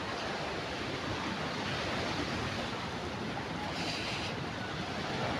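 Typhoon Tino batters an island shore with a continuous, loud roar of wind and crashing surf. The gusts buffet the microphone without pause, and no voices are heard.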